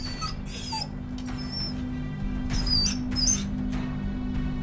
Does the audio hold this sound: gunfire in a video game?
no